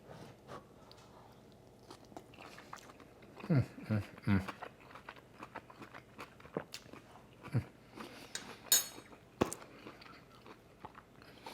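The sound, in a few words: eating crack slaw of cabbage and pork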